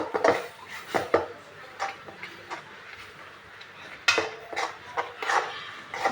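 A utensil stirs ramen in a pot, giving irregular scraping and clinking knocks against the metal, close and fairly loud, with no talking.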